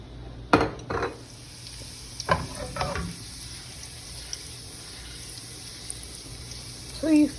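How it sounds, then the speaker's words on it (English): Garlic goes into a hot frying pan, with a couple of clattering stirs and knocks early on, then a low, steady sizzle that continues quietly underneath. "I am going to throw in my garlic."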